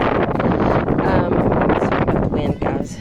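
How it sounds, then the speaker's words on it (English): Strong gusts of wind buffet the microphone in a garden beside a courgette plant, a loud continuous rumbling roar that nearly drowns everything else. "sorry about the wind"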